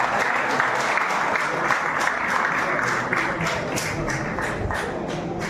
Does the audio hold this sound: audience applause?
yes